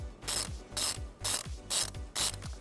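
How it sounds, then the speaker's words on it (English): A ratchet wrench with a 10mm socket loosens the positive post nut on a 2017 GMC Terrain fuse box, giving five quick rhythmic bursts of clicking, close and fairly quiet, with no talk. "we're going to remove it using a 10mm socket"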